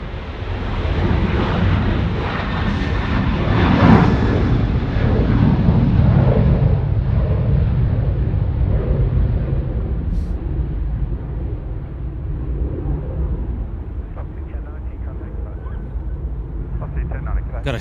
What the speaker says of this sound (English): that particular departure caught me a little bit by surprise